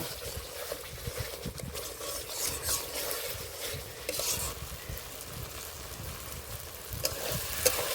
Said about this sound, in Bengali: এবার দিয়ে দেবো এক চামচ ধনের গুঁড়ো এবার ভালো করে কষে নেব